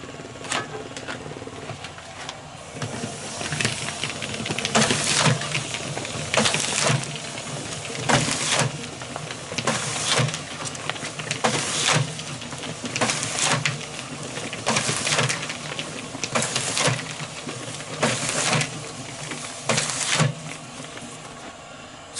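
A Tach-It Mini-Con bagging machine runs while feeding product, giving off a continuous mechanical hum broken by repeated sharp rhythmic bursts every second or two.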